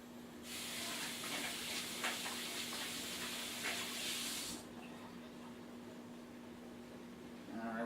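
A kitchen tap runs in a steady hiss as hands are rinsed after handling fish, the flow cutting off about two thirds through and leaving a quiet hum behind.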